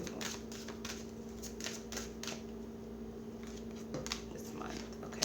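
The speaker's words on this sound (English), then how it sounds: "I'll show you the cards after I'm done shuffling them" Tarot cards shuffled by hand, a soft, steady riffling and flicking in quick bursts over a constant low electrical hum.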